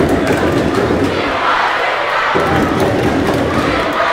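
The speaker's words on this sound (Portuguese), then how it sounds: "E a torcida grita pedindo um gol já, hein? Pedindo um gol." Dense roaring crowd noise from spectators at a school football final, steady and loud across the whole stretch, with a few dull thumps mixed into the sustained shouting.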